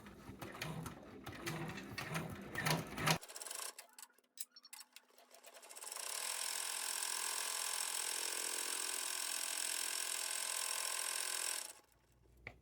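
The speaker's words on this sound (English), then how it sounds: "And now you're going to stitch that last step of this first shape, which will seal up the front and back." A home embroidery machine stitches an in-the-hoop design, first with a loud, quick rhythmic needle chatter, then a pause with a few clicks, then a long, steady high mechanical whir that runs evenly before stopping abruptly.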